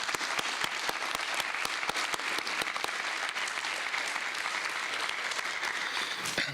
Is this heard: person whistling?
no